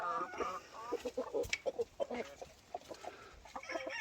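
A brooding Rhode Island Red hen clucks repeatedly in short, close, moderately loud bursts, an irregular run of soft clucks with a few sharper calls, over faint background noise.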